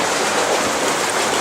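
A heavy shower of water pours into a koi pond, a dense and loud continuous splashing rush that holds steady with no other sounds.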